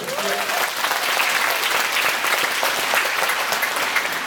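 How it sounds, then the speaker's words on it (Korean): Conference audience applauding at a welcome address, a continuous wash of dense clapping that stays steady and close for the whole stretch with no break. "그럼 누나 박수 한번 해주시죠."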